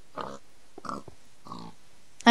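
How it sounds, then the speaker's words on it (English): Pig oinking in the video game Minecraft, three short grunting calls spaced about half a second apart, with a louder sharp game sound bursting in at the very end. "I'm killing the pig."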